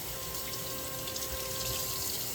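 Tap water runs steadily over a raw salmon fillet in a kitchen sink, a continuous close splashing rush with no talking.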